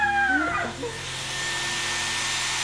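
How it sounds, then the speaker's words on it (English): A handheld blow dryer running on its cold setting kicks in after a brief tonal sound at the start, then settles into a steady, close, whooshing airflow hum that continues evenly to the end. "Is it just a blow dryer? It's just on cold right now."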